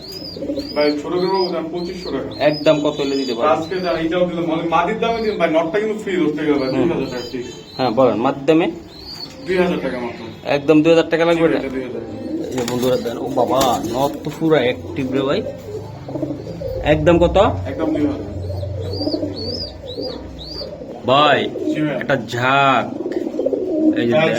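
Budapest pigeons cooing in a loft where pairs are kept for sale: continuous overlapping coos and soft calls, close and full, with a few wing flutters and people talking intermittently underneath.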